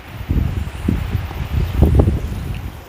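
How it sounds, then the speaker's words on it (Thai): Strong wind gusts rumble across a hilltop above Wellington, New Zealand, buffeting the microphone in uneven low surges that swell and fade over a few seconds with no voices. "ลมแรง"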